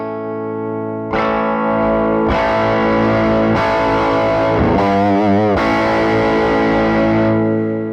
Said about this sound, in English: guitar volume on 10, and it's like just rock and roll, you know?